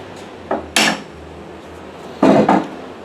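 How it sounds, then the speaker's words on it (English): Two pairs of sharp metallic taps ring out close by, a hammer striking a metal thread spike, with quiet pauses between them. "Hammer, mallet, tool of choice."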